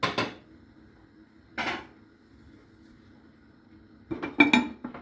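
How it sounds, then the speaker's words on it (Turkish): A metal cooking pot lid clanks shut with a couple of clattering knocks, separated by quiet pauses, while chicken cooks over low heat. "Kapağını kapatıyorum."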